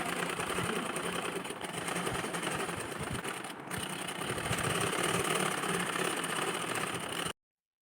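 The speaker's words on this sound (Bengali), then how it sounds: "আমি মেশিনে গিয়ে আপনাদেরকে দেখাচ্ছি কীভাবে সেলাই করব" A sewing machine stitches georgette dress fabric in a steady, continuous mechanical whir that runs at close range for about seven seconds and then cuts off.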